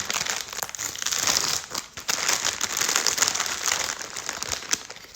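Plastic packaging on a Labubu blind box crinkles and crackles continuously at close range for several seconds as it is torn open, with no talking.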